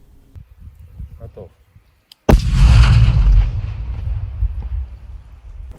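A single loud, deep blast of artillery fire during demining work in Ukraine cuts in after faint talk, followed by a long rumbling roll that slowly fades.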